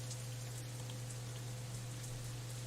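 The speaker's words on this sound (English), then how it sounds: "Raindrops hitting the umbrella make a distinctive sound, playing the staccato melody of rainfall for nobody in particular." Steady rain drums on an umbrella in the Katawa Shoujo visual novel, a dense, even patter of drops under a constant low hum, with no voices throughout.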